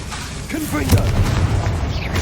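A Confringo blasting spell goes off in the video game Hogwarts Legacy, giving a booming explosive burst with a short rumbling tail, close and loud over game noise and voice.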